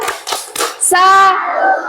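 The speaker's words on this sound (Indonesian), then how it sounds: "Kita kasih tepuk salut dulu." A school class does a 'tepuk salut' clapping chant: three quick, sharp rounds of hand claps, then children's voices chanting together loudly.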